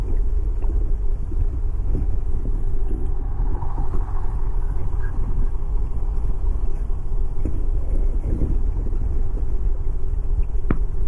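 A Harley-Davidson Heritage Softail cruising at highway speed, a steady loud low rumble of engine and road and wind noise that holds constant throughout.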